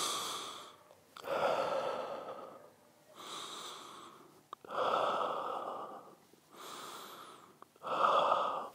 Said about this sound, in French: Et on respire profondément.